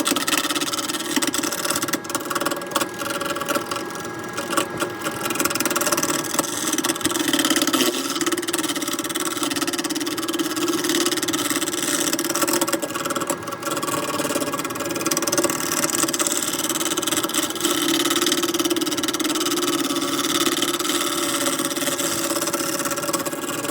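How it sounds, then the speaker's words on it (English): A wood lathe spins a plywood segmented bowl with walnut while a square carbide tip cuts it, producing a loud, unbroken whirring drone with a rough, grainy texture that stays constant throughout. "This is just a time-lapse video of working the bowl all the way around using a square carbide tip"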